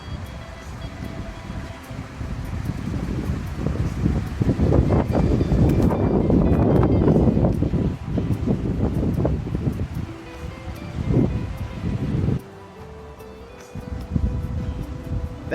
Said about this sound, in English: just to give you an idea of what the wind is like